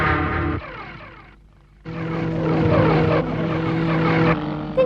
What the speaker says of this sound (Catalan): l'helicòpter ve cap a mi